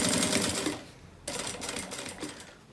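Sewing machine stitching a plastic canvas beach bag, a close, steady rapid chatter that runs about a second, pauses briefly, then resumes.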